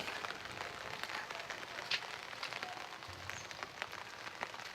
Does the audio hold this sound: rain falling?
yes